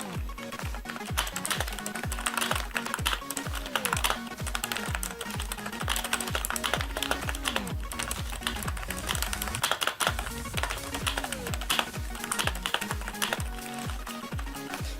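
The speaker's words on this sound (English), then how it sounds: "Here is a typing sound test." Continuous fast typing on a RockSoul RSKB-00115 rubber dome keyboard: dense, muffled key presses and occasional deeper spacebar thumps, close-up and steady with no voices.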